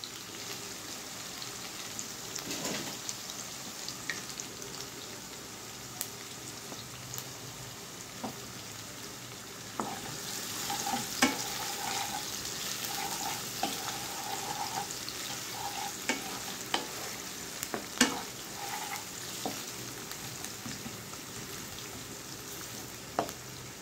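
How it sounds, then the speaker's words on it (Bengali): Chopped onions fry in hot oil until reddish, making a steady sizzle throughout, broken by occasional sharp clicks and scrapes of a utensil stirring the pan. "পেঁয়াজটাকে একটু লাল লাল করে ভেজে নিব।"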